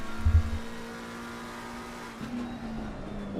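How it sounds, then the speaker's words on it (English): A race car in a sim racing game at Brands Hatch drones along with a steady engine note that dips and shifts mid-drift, with a low thump near the start. "Whoa! Big drift."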